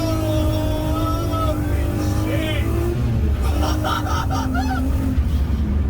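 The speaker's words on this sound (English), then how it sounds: "because of that you can hear everything this car does" A road-legal VW Golf race car with an R32 engine and no carpets sounds loud inside the cabin, with a steady engine drone and rising revs. An excited voice exclaims over the noise.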